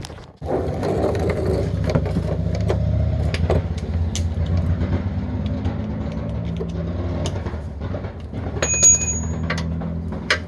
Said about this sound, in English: there's a Harley going down the road and it's not running right